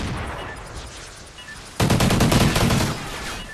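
Rapid burst of gunfire in Call of Duty Ghosts, a loud sudden fusillade of close, sharp shots that begins partway through after a quieter stretch of game ambience, then tails off near the end.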